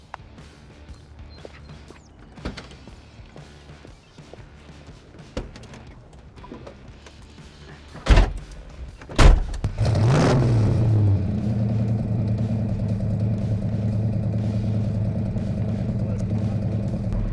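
A 1970 Ford Mustang Mach 1 with a 428 Cobra Jet engine: two sharp door slams, then the V8 starts and settles into a steady, loud, close rumbling idle, with quiet ambience and faint voices before it.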